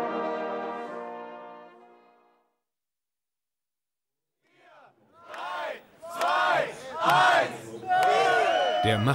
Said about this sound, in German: Jubel vor der Bonner SPD-Zentrale.